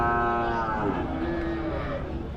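Cattle at the Uthangarai cattle market in Tamil Nadu give a long, drawn-out moo, loud and close, over dense crowd and market background noise.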